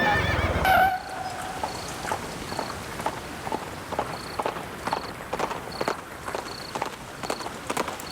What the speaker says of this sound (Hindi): सुनाई दे रही है घोड़े की चहल पहल।